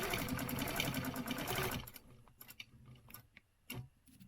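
An embroidery sewing machine stitches a stencil design, running as a fast, steady mechanical rattle before stopping abruptly, followed by a few quiet ticks and clicks.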